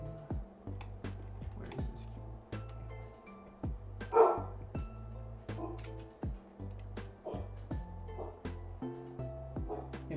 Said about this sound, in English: don't bark, lay down.